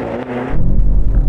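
BMW M5 cars launching side by side in a drag race: a short lull gives way to a sudden, loud, deep engine rumble that holds steady to the end.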